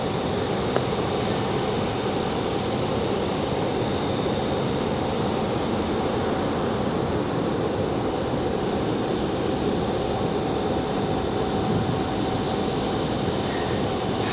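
An Aer Lingus airliner passes the airport with a continuous, loud, even rumble of jet noise that stays level throughout, with no talking.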